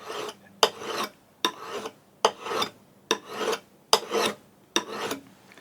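A burnisher draws along the edge of a Melbourne Tool Co. cabinet scraper to turn a burr, giving seven evenly spaced rasping strokes, each a sharp start followed by a scraping rub, close and clear.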